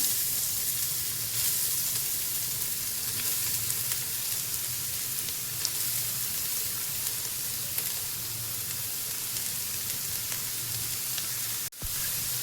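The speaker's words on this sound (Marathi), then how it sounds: "किसलेले गाजर टाकूया।" Grated carrots sauté in hot ghee for carrot halwa, giving a steady, close sizzle that holds even throughout with a brief clatter near the end and no talking.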